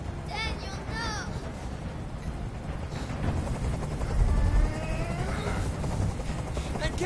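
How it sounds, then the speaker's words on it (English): A helicopter hovers in the video game Detroit: Become Human, a continuous thudding rotor drone that swells midway, heard under tense speech from several voices. "Tell that helicopter to get out of here!"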